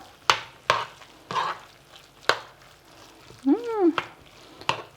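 Rice stuffing with herbs being stirred in a pan for stuffed peppers, giving a few scraping strokes and soft clatters spaced irregularly, close by, with a brief chirp-like squeak partway through and no talking.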